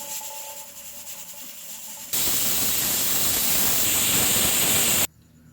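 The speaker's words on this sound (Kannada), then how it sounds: "ಇನ್ನೀಗ ಇದನ್ನು ಮುಚ್ಚಿಟ್ಟು ನಾನು ಒಂದು 4 ವಿಸಿಲ್ ಹಾಕಿಸ್ತೇನೆ." A pressure cooker of mutton curry (mutton saaru) on a home kitchen stove releases a loud, steady burst of steam hiss lasting about three seconds, which cuts off sharply, with faint kitchen background before and after.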